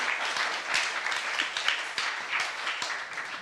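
A church congregation claps during a sermon at a youth service, a dense, even wash of applause from many hands in a large room, moderately loud and continuous, with no speech over it.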